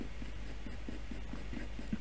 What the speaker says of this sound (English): Curving that pencil round this ear.